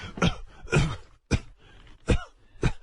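Several sharp coughs, close and fairly loud, in irregular bursts with short pauses between them, and no talking.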